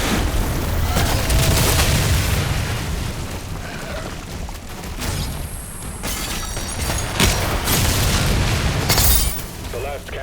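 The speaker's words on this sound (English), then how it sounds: "The last cannon has been destroyed." A cannon blows apart in DOOM: The Dark Ages, with several loud booms and crashing blasts over continuous rumbling combat noise, punctuated by sharp metallic impacts.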